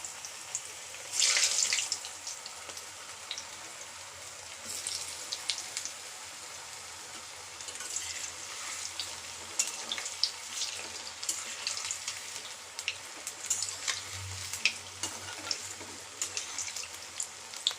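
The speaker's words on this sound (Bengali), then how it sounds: "আমি একটা একটা করে বল ফ্রাই করে দিয়ে দেব" Vegetable Manchurian balls deep-fry one by one on low heat, a soft continuous bubbling hiss with scattered crackles and pops, fairly quiet and steady throughout.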